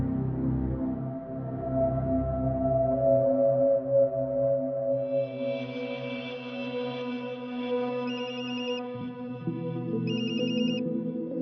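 A phone ringtone plays, a melodic electronic tune that repeats as steady beeping tones over a low background hum.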